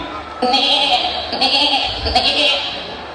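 A human voice imitates a lamb's bleat with a few wavering, drawn-out cries in succession.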